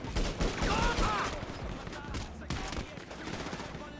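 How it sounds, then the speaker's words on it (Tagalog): Rapid gunfire bursts from GTA roleplay combat crackle through the clip, mixed with talk from players over the shooting. "Taki, dami bumabaril sa akin"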